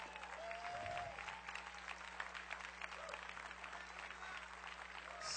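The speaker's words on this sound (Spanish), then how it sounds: "En el nombre de Jesús, toma un momento y dale un fuerte aplauso al Señor." A church congregation claps together during an evening service, a steady wash of applause that is fairly quiet and distant and runs throughout with a low hum beneath.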